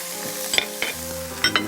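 Onion and minced red chili stir-fried in a pan, a close sizzle with a few quick metallic clinks and scrapes from stirring over a brief moment, no talking.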